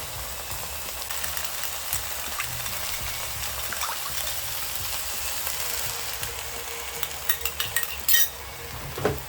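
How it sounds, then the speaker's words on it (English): A spoon stirs tomato paste and hot water into a minced meat sauce in a pan, with continuous soft sizzling and wet scraping, plus a few sharp utensil clinks near the end, no voices. "I'm going to mix this with some hot water."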